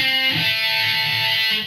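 Electric guitar plays a riff, a short run of single picked notes with a bright, slightly distorted tone, close and alone with no talk.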